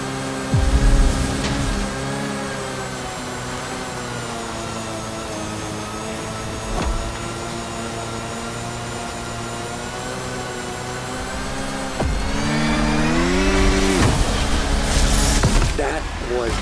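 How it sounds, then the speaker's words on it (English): 250 kW car engines race in The Crew Motorfest, a sustained high-revving drone with shifting harmonic pitch, gear-change swoops and a louder surge near the end. "just look at those 250 kilowatt engines at work"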